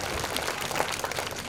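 Applause from a school audience for a child receiving a prize at a Republic Day prize distribution, a dense, steady patter of many hands clapping throughout, fairly close and without pause.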